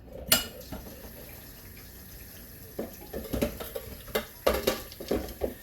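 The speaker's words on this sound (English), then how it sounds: "I run cold water on my pasta and I rinse it off" Cold water running from a kitchen tap to rinse pasta, a steady soft stream joined by louder irregular splashes and clatters as the noodles are moved about in the sink.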